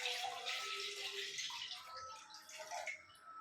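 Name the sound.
water being poured into a pan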